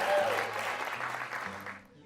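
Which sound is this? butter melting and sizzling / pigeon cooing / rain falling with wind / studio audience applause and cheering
studio audience applause and cheering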